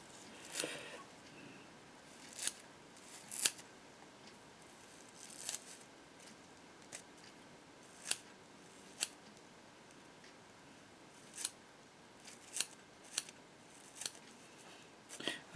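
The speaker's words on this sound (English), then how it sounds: "take my scissors and just do a bunch of rough cuts on the belly" Scissors snip in scattered, crisp cuts while trimming the belly of a Dahlberg Diver fishing fly, a dozen or so sharp clicks spaced irregularly against a quiet background.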